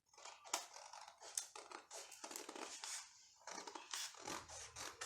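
Scissors snipping through fabric while cutting out a sleeve pattern, a series of close crisp irregular cutting strokes with short pauses between, no talking.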